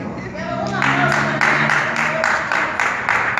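Audience applause at a circus clown show, a steady wash of clapping that swells and holds for a few seconds, with a voice speaking over it at the start.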